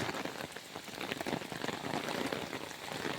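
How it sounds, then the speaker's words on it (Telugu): Heavy rain falls in Hyderabad, a steady, dense patter of drops hitting surfaces close by, continuous and moderately loud throughout with no voices. "ఫ్రెండ్స్ భారీగా వస్తున్నటువంటి వర్షాలకి రోడ్లన్నీ జలమయమైనవి"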